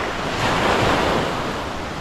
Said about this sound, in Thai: บรรยากาศริมท้องทะเลชะอำ